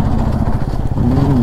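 A motorcycle engine labours in a low gear on a ride from Bangalore to Savanadurga, giving a loud, close, continuous drone with a rising whine toward the end.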